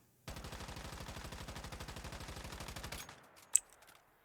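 A single long burst from an SMG in the video game Once Human, the MPS5 Kumawink: evenly spaced rapid shots for nearly three seconds, then a short mechanical clack as the magazine runs dry.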